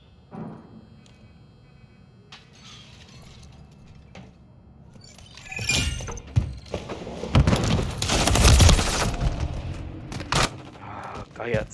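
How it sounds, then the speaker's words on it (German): Call of Duty Modern Warfare 3 gameplay gunfire, quiet at first and then building into loud, dense automatic bursts and rapid shots that crowd together in the later half. "Werde beschossen!"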